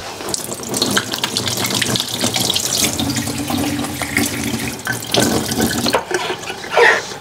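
Water runs from a kitchen tap into a cooking pot in a steady, close splashing stream that shifts in tone as the pot fills, with no talking.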